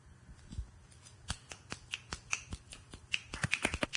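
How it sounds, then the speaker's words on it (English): An audience at a poetry reading snaps fingers after a poem, starting with a few scattered snaps and building to a quicker, denser patter of crisp clicks near the end. "It's snapping for poems, yo."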